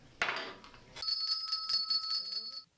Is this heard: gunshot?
no